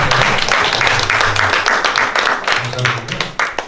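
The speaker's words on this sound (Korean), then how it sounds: "박수 한번 우리 박태순" An audience at a public forum lecture claps in a brief round of applause, fairly close and loud, with a voice talking over it at moments.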